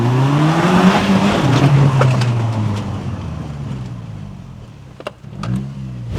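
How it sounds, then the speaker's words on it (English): An Audi S3 idles and rolls into a workshop, its engine a loud close rumble that gradually eases and quietens, with a few sharp clicks and knocks near the end. "So I've just pulled up into the workshop"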